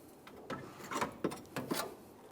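Radiator of a 2008-2017 Mitsubishi Lancer 2.4L being lifted up and out of the engine bay: a few soft rubbing and scraping bumps at irregular intervals, quiet and close, with no talking.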